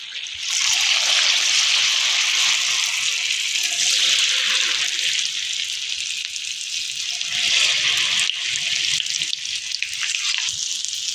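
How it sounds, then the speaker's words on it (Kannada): Mysore bonda batter deep-frying in hot oil at home, a loud, steady bubbling hiss that runs unbroken throughout, close up with no talk. "ಈಗ ಇವನು ಅದೇ ರೀತಿ ಫ್ರೈ ಮಾಡಿ ತಗೋತೀನಿ"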